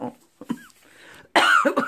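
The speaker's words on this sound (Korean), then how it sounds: "기침이 나와버려" A person coughs several times in short, harsh bursts, the loudest one a strong hacking cough near the end, close to the microphone with quiet gaps between.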